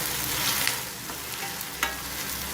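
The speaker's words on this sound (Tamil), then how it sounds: "இப்போ பார்த்திங்கன்னா நல்லா வதங்கி வருது விளக்கெண்ணெயில் நல்லா இதை வதக்கி வச்சுட்டு" Mudakathan greens sautéing in castor oil, a dense continuous sizzle with a couple of brief spatula scrapes, close and steady with no talking.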